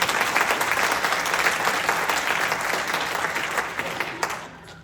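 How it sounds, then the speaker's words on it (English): Audience applause during a school's annual state-of-the-school address, a dense, sustained wall of clapping from a large crowd that slowly tapers off near the end. "For that, you can clap."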